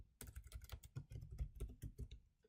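Quick bursts of clicking keys on a computer keyboard as copy and paste shortcuts are pressed, close and crisp, a rapid cluster of taps with no speech.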